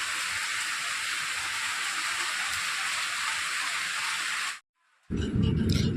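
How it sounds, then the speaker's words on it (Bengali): Heavy morning rain pours down in a steady, dense hiss that fills the air for several seconds, then cuts off briefly before resuming loud and close. "দেখো কি অঝরে বৃষ্টি পড়ছে"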